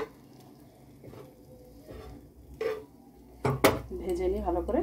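Bread slices fry in melted butter in a pan, with soft sizzling under clinks and scrapes of a utensil against the pan; a loud clatter of cookware lands near the end.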